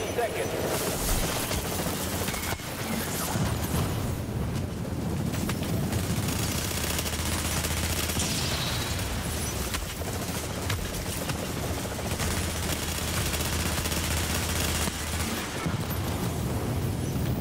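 Gunfire in Tom Clancy's The Division, an online shooter, comes as dense rapid bursts and booms layered into a constant loud din, with voices talking over it.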